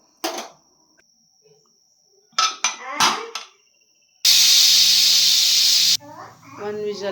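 A pressure cooker whistles during tomato rice cooking: a loud, sustained burst of hissing steam lasting nearly two seconds, set between short bursts of speech and kitchen clatter.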